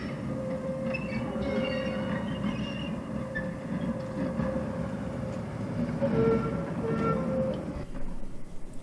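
A model BR Class 12 0-6-0 diesel shunter hums steadily as it pulls wagons along the track, with wheels clicking and occasional faint squeals, no talking.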